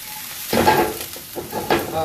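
Stir-fry vegetables in a hot pan crackle as a tablespoon of cornstarch hits them, with short sizzling bursts of frying and stirring, close and fairly loud.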